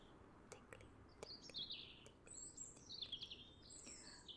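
Several birds chirp and tweet in quick, overlapping calls over a soft background hiss in a garden, with scattered clicks; fairly faint and close.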